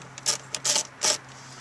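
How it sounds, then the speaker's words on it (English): Screws come out of the rear speaker frame of a Ford Focus in three short, close scraping bursts of the driver turning in the metal, with brief pauses between them. "we're going to remove these three screws"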